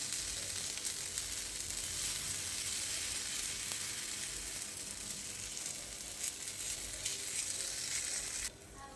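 Steady, loud sizzling of amaranth and barnyard millet chilla batter spreading on a hot griddle, a continuous crackling hiss throughout with no talking.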